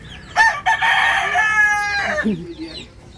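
A rooster crows nearby, loud and drawn out, followed by a few low clucks trailing off at the end.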